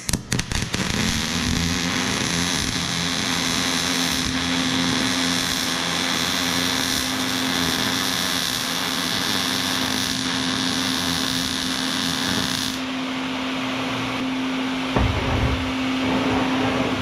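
A grinder smooths the welded edge of a metal birdhouse, running as a loud, steady, close-up whine for about thirteen seconds before easing off, with a few knocks near the end.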